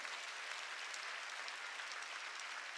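A church congregation applauds during a worship service, sustained even clapping that sounds faint and distant throughout.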